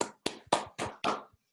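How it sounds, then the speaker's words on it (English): A small online meeting group gives a short round of applause, five distinct claps in quick succession with brief gaps between them, close and fairly loud, with no talking. "We'll give him a virtual round of applause for that one."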